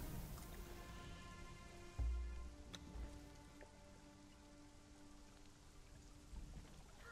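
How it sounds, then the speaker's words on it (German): Steady rain falls in the video game Conan Exiles, a soft continuous patter on surfaces with one brief thump early on, and no voices. "Ah, der Regen hört auf, das ist wunderbar."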